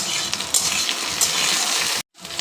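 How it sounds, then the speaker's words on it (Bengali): Okra frying in oil in a pan, stirred: a steady close sizzle with scraping and stirring, then a brief moment of silence near the end before the sizzling returns. "ভেন্ডিটা ভেজে নেব, ঢেকে দেব। ঢাকনিটা খুলে একটু নাড়িয়ে নেব।"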